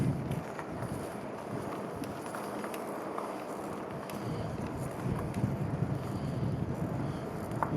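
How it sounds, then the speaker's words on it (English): Wind on a windy morning ahead of a tropical disturbance, on a ride through a Gulf Coast state park, a steady broadband rush buffeting the microphone close up for the whole stretch, with no talk. "It is windy this morning."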